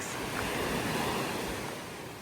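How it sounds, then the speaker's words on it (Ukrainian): Sea waves roll onto a small beach on an island in Thailand, a continuous broad wash of surf that swells slightly midway and then eases, with no voices over it. "ось ці хвилі, ось це клас"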